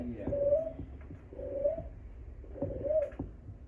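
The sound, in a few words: bird call imitated with hands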